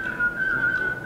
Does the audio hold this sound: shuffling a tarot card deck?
no